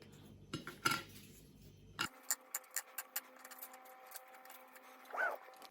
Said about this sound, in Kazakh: Осылай қойып шығамыз печеньемізді.